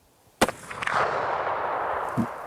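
A single sharp rifle or muzzleloader shot fired while sighting in at a target during a British Columbia black bear hunt, loud and close, followed by a long rolling echo that fades slowly, with a faint thump near the end.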